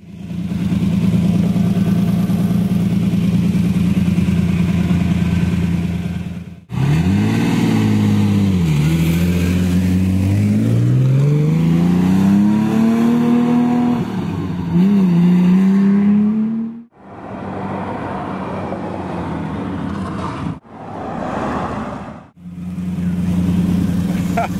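A sports car engine idles, then revs and climbs through gears with rising and falling pitch, loud and close, before cutting out and settling back to idle.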